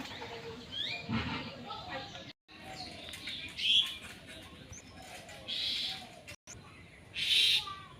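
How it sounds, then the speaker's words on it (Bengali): Several bird calls ring out outdoors in a village in the morning, clear chirps and hoots rising above a soft ambient background, with a person talking quietly between them. "আর চারপাশে পাখির ডাক অনেক ভাল লাগতেছে"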